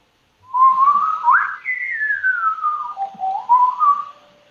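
A person whistles a single sliding melody, the pitch rising and falling as the tongue reshapes the mouth, clear and close with no talk over it.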